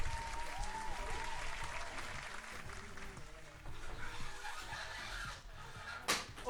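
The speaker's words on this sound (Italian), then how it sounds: "Un applauso a Simo." Applause during an Italian unboxing livestream, clapping that runs steadily beneath some speech-like sounds and background noise, with a sharp louder burst near the end.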